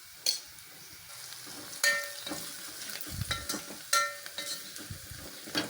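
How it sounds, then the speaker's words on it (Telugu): Half a spoon of turmeric frying in a pan of hot oil, a soft steady sizzle broken by the scrape and knock of stirring, quiet and close, with nobody talking. "ఒక అర స్పూను పసుపు వేసుకుంటున్నా"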